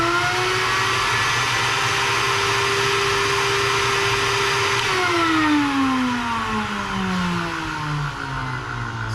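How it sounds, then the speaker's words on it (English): Record cleaning machine, a VPI 16.5, vacuuming cleaning fluid off a vinyl record, a loud steady whirring suction drone that holds even, then its pitch slides downward as the motor winds down, with no talk over it. "here's where you can see how loud this machine is."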